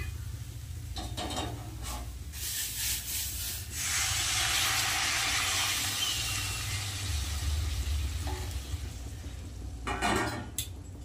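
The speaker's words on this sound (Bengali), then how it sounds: "এবার আমি জল দিয়ে দেবো।" Hot, well-fried masala for a mung-soybean bori curry meets added water, giving a loud, steady hiss and sizzle with clinks of pot and utensil, a burst around the middle and bangs near the end, no talk.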